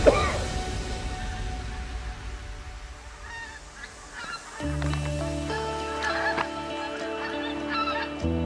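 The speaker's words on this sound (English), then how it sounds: "now we've got Canadian geese flying over me" Canada geese honk repeatedly overhead, a chorus of nasal calls over steady outdoor background noise, fairly clear and close.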